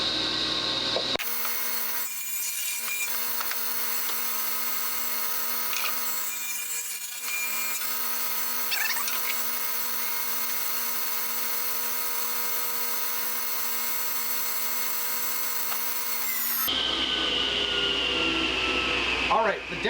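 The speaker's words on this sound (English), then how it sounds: "I've got my dust collector set up on a remote, so I don't have to go throw a switch or anything." A woodshop dust collector runs with a steady loud drone and hum for most of the stretch. Intermittent woody rubbing and sawing textures sit over it before it shuts off near the end.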